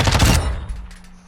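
A submachine gun in the Call of Duty DMZ firing range fires a short, loud, close burst of rapid shots that fades quickly into a decaying echo.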